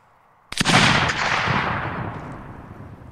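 A musket volley from massed infantry in a Mount and Blade Warband battle, one sudden ragged crack of many shots at once followed by a long rolling echo that fades out over a few seconds.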